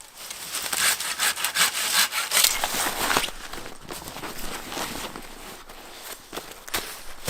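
A hand saw cutting dead lower branches off a tree for firewood in a rainy backcountry camp, rapid rasping strokes close by that ease off and turn sparser toward the end.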